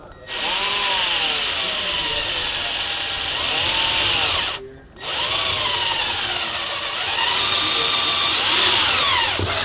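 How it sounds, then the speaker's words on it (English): Power drill boring a hole in a 2015 GMC truck's interior for a trailer brake controller switch, loud and steady with rising and falling whine, two long runs split by a brief pause near the middle. "once we've got it drilled out"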